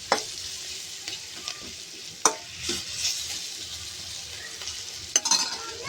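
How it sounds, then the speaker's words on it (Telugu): Turmeric and ginger-garlic paste fry in a pan for a mushroom masala curry, with a steady sizzle under scattered scrapes and sharp clinks of a spoon stirring against the pan. "అల్లం పచ్చివాసన పోయే వరకు వేపుకోవాలి."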